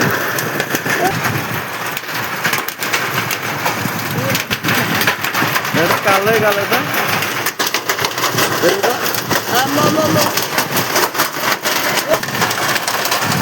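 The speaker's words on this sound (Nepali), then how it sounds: "असिना हो असिना" Hail falls during a hailstorm in Nepal, a dense steady patter and clatter close by, with people talking excitedly over it.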